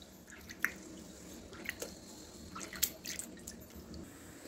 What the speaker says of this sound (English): Now we will mix them and wash them together.